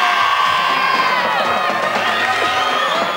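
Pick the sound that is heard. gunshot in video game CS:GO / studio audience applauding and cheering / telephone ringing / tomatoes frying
studio audience applauding and cheering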